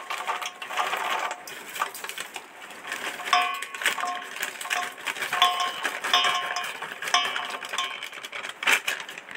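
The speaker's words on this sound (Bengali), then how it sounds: "2 প্যাকেট সয়াবিন এই জলের মধ্যে দিয়ে দিচ্ছি।" Dried soybean chunks tumble into a pot of water seasoned with turmeric and salt, giving a steady run of light rattling, clinking and splashing knocks, close and fairly busy throughout with no talking.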